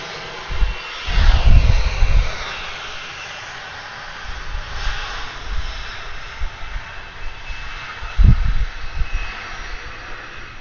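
Airbus A321 jet at Atlanta airport, a loud engine roar swelling and fading as it passes, with a second rumbling surge later, no talk.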